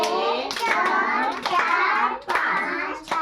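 A child counts out hand claps, several sharp claps in a steady rhythm, close and loud, with a young voice speaking between and over them.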